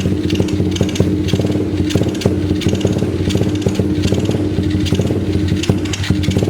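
A 2021 YCF Start F88S 88cc pit bike runs while still cold. The engine is loud and close, with a continuous rough, throbbing drone under light throttle.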